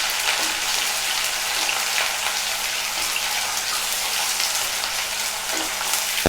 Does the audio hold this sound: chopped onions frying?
yes